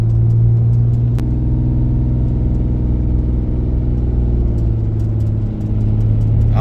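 A Ram 6.7 Cummins diesel pickup towing a fully loaded trailer holds a loud, steady low droning rumble from inside the cab at part throttle, with a brief clunk early on.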